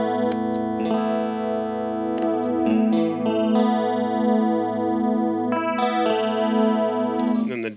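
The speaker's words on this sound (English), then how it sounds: "The chorusy effect you can hear here," An electric guitar runs through a Digitech Whammy on its shallow detune chorus setting, strummed chords ringing with a gentle shimmering wobble, steady and close, alone with no talk.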